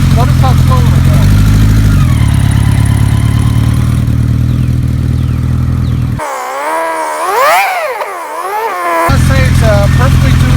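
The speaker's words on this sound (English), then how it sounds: "This is a very nicely tuned motor. Notice how slow it goes." A 1973 Kawasaki Z1 900 motorcycle, a barn find, idling slow and steady with a finely tuned low, even engine note. A voice speaks over it for most of the stretch.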